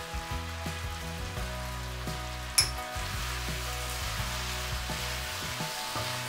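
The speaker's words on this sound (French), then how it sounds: "Cuire 2 minutes tout en remuant." Beef noodles are stir-fried in a pan, sizzling steadily with the rustle of stirring, broken by one sharp clink partway through, and no voices.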